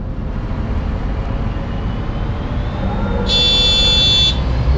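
A sharp electronic warning beep in the OMSI 2 bus simulator, aboard a Neoplan N4516 bus in the Ruhrgebiet, sounding once for about a second over a steady engine and road drone.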